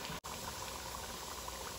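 Plantain slices for tostones frying in hot oil, a steady dense sizzle and bubbling that runs evenly throughout, close and moderately loud, with a brief dropout near the start.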